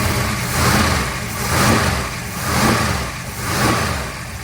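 A 555ci big-block 1955 Chevy with a new ATM four-circuit Dominator carburetor rumbles steadily nearby, its loud, deep idle swelling in slow, regular surges.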